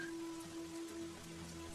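Heavy rain pours on a village road, making a faint, continuous pattering hiss under a sustained low humming tone, with no voices.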